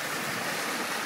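Ocean waves wash steadily onto the shore, a broad continuous rush of surf with no distinct breaks, heard alone without voices.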